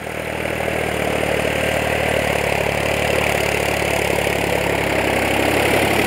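A New Holland 3600 Heritage Edition tractor hitched to a cultivator runs with no load, its diesel engine a steady, loud, close idle with a constant mechanical clatter and no talk.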